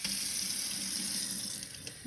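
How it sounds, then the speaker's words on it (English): Tap water runs steadily into a bottle during a school gases lab, a constant splashing rush that holds at a fairly close, even level throughout with no talk. "Fill this with water."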